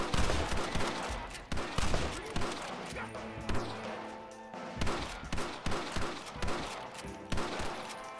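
Repeated gunfire bursts in the Western video game Red Dead Redemption, loud, sharp volleys of shots at irregular intervals over music and game ambience, with a voice briefly talking.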